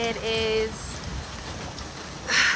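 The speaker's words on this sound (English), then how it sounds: "All right, so it is hailing right now." Hail falls outside in June in Italy, a steady patter of pellets hitting surfaces that swells louder toward the end, with brief tonal sounds and some background noise early on.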